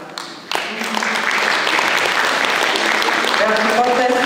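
Sustained applause from an audience at a seniors' gathering, starting abruptly after a brief quiet moment and continuing as a loud, steady wash of clapping.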